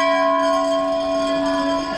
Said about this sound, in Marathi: एवढा घंटा मोठा आहे बघा